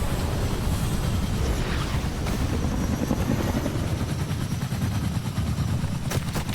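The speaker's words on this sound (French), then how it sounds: "Il y a des nouveaux hélicoptères comme ça." Helicopter rotor and engine roar from the Fortnite video game, a loud continuous thrum throughout, with faint bursts of gunfire mixed in.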